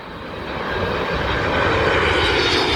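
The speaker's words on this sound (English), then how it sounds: "Yep, that's a United 757." A United Boeing 757 airliner at Dulles Airport roars steadily with broadband engine noise that swells slightly louder over a few seconds, close and continuous, with no voices.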